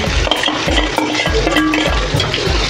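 Onion stir-fried in a pan with ginger, garlic and asafoetida, a steady close sizzle broken by repeated scraping stirs of a spatula against the metal.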